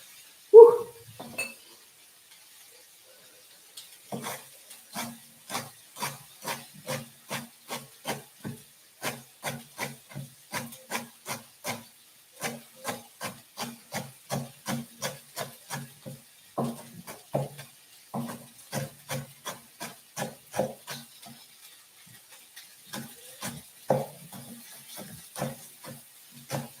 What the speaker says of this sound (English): And then chop up the rest of the dill.